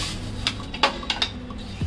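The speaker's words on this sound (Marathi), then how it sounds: "आधी आपण आता थोडेसे ड्रायफ्रूट्स भाजून घेऊया।" Dry fruits roasted in a pan, a few light metallic clinks and scrapes of a spoon against the pan over a soft background hiss, close and brief.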